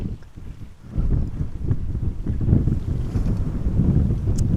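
Strong crosswind gusts buffet the microphone at Amsterdam Schiphol Airport, a loud, continuous low roar that surges after a brief lull and keeps rushing without pause.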